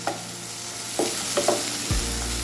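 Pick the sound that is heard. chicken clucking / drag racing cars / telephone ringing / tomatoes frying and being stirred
tomatoes frying and being stirred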